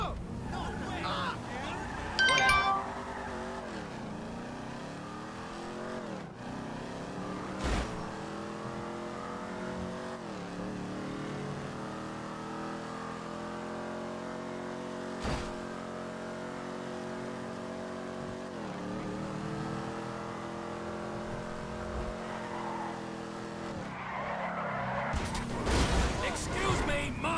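An engine revs and strains in GTA V gameplay, a steady car drone with rising and falling pitch sweeps, punctuated by sharp impacts, while a voice exclaims over it.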